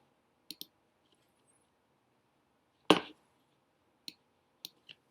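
Sharp computer mouse clicks, several quick separate ones spaced across a quiet stretch, near and crisp, with one louder click in the middle and no talking.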